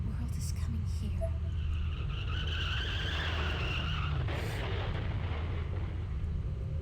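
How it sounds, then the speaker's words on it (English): A car skids with a long, rising and falling tire squeal over a low rumble in the horror video game Corpse Party: Blood Drive; no clear crash impact stands out. "There was an oddly familiar sound, another car accident again right outside my door."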